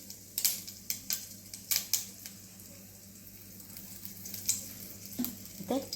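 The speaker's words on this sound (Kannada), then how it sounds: "ಸಾಸಿವೆ ಚೆನ್ನಾಗಿ ಸಿಡಿಯಲಿ" Mustard seeds splutter in hot oil for a papaya buttermilk sambar, giving a string of sharp, irregular pops and crackles over a quiet background sizzle, close up with no voices.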